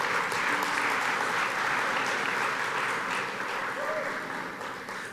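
Sustained applause from an awards-celebration audience thanking event sponsors at an alumni awards dinner, steady and dense, easing slightly toward the end.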